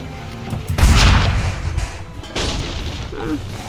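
Deep booming cannon fire in Assassin's Creed 3 Remastered, one heavy blast followed by a second, rumbling and loud against background noise.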